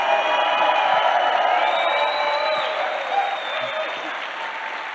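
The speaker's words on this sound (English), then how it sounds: "Give yourselves a round of applause." A crowd claps loudly and continuously, with scattered whoops and whistles over the applause, which eases off slightly toward the end.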